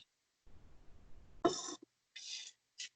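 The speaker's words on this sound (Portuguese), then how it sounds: "Estou com um pigarro chato," Someone clears their throat in a few short, rough bursts, with brief silences between them.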